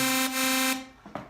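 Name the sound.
synth with reverb effect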